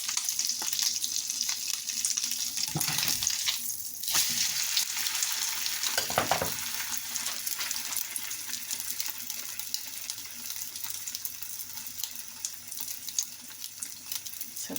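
Steady, close-up sizzle of eggy bread (French toast) frying in a pan. A couple of brief clattering bursts break the crackle early on, with no voices.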